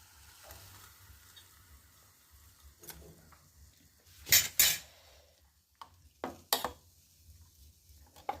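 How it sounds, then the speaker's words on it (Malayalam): Mustard seeds, cumin and chili fry in coconut oil as a faint, low sizzle, broken by several sharp utensil clinks and scrapes against the pan. "കടുവ വറുത്തിട്ടുണ്ട്."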